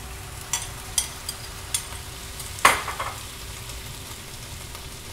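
Tomatoes are stirred into a pan of tender cooking green beans, with a soft steady sizzle punctuated by light periodic utensil taps and one louder scrape-and-clatter midway.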